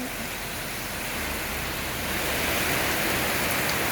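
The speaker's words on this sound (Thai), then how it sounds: "ฝนตกแรงมากสาดบ้านคุณแม่เลยนะคะ" Heavy rain pours steadily onto a house front during a Thai downpour, a dense, loud, continuous wash of drumming water that grows slightly stronger toward the end, with no talk over it.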